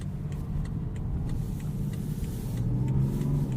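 A BMW X5 xDrive 35d diesel SUV driving on snowy roads, heard from inside the cabin as a smooth, quiet, steady low engine hum with faint road noise.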